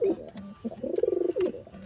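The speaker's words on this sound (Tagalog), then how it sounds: "Ito po ang ating binibentang kalapati" Pigeons kept for sale cooing close by, a soft, throaty series of rolling coos with a quick burbling pulse in the middle, heard alone without talk.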